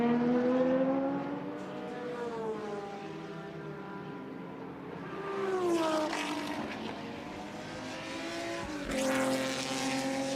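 An Opel Kadett race car drives at the Red Bull Ring during DTM Classic free practice, its engine droning steadily with rising and falling pitch as it shifts gears and passes nearby, loud and continuous without talk.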